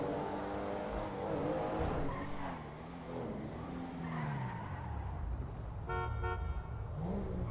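Car engine in the GTA V video game, revving up and down with shifting pitch while tires squeal and skid, then a burst of horn honking near the end, loud and continuous throughout.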